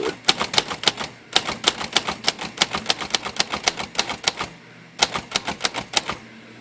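Royal Quiet Deluxe typewriter with a faulty ribbon lift typing repeated capital H keystrokes, a rapid run of sharp clacks, a short pause, then a few more strikes, close and clear with no voice.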